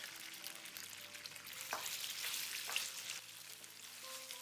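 Beef pieces dropped into hot vegetable oil in a wok, a bright continuous sizzle with a couple of sharper spits and a low background hum, no voices.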